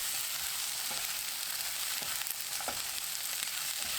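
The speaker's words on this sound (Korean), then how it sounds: "양파, 파 넣고 1분 볶습니다." Pink sausage stir-fries in a pan with onion and green onion, making a continuous gentle sizzle with a few soft stirring clicks, close and fairly quiet, with no talking.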